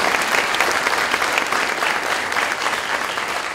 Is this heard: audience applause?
yes